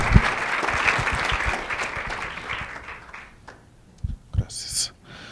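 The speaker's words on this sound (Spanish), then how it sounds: "Entonces damos un fuerte aplauso a nuestro invitado." An audience at a university environmental economics talk applauds a guest speaker, a dense burst of clapping that fades after about three seconds, followed by scattered sounds and brief talk.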